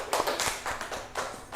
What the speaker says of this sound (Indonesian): Beri tepuk tangan pada kelompok 1.